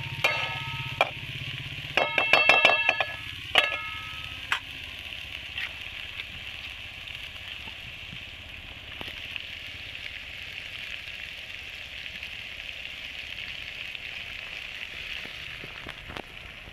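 Eggplant coated in masala frying in a pan over a wood-fired stove, a steady soft sizzle running throughout, with a burst of clattering stirring near the start and occasional sharp crackles.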